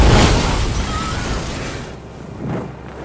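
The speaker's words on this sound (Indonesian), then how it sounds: "Ledakan besar pun terjadi." A loud, close explosion roars out at once, a broad rumbling blast that slowly decays with crackling debris and a smaller burst near the end.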